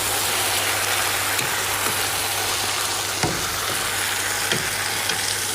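Chicken frying with onions and spices in a pot, a broad steady sizzle with occasional light clinks, close and continuous, no talking.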